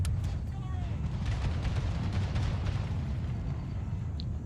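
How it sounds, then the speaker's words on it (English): Musket and cannon gunfire in an Empire: Total War American Civil War mod battle, a low, rumbling continuous barrage with scattered sharper cracks, moderately loud and distant-sounding. "That's some loud gunfire coming off of that."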